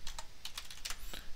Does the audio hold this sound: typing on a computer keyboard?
yes